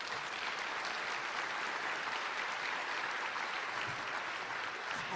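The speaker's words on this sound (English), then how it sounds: "Let's give her a round of applause." A crowd at a scientific meeting's plenary session claps steadily and evenly for several seconds, a dense wash of applause with no voices rising above it.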